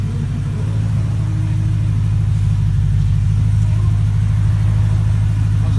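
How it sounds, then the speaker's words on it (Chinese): A BMW E92 M3 with a Supersprint quad straight-through exhaust and ARMA remote exhaust valves, running steadily with a loud, deep, continuous rumble close by and no talking. "尾段是使用超春排气管，它是属于直通型的回路，所以此辆车在发动的时候声音非常的大"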